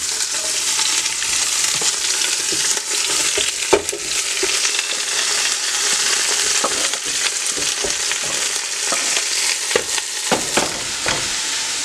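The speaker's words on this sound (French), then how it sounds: "je fais suer mes légumes avec la viande" Vegetables and beef sweat in a casserole pot with onion, rosemary and garlic, giving a steady close sizzle and crackle throughout, with occasional clicks and stirring sounds and no talking.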